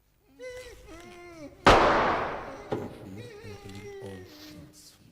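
One loud, sharp gunshot with a long decaying tail, then a smaller follow-up blast, in a dark horror game demo, with a voice speaking before and around the shots.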